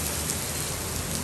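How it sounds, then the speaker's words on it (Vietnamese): Heavy rain pours down steadily in a dense, even roar with no letup and no voices, as on an afternoon when a trip to the supermarket is rained out. "Trời ơi, mưa to dã man luôn mọi người ơi."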